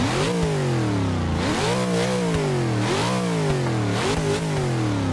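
A 1975 Ford Bronco with a tiny exhaust, in Forza 6, revs hard several times in a row, each loud, close engine surge climbing and then dropping back before the next, with no talking.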